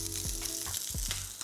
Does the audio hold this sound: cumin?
yes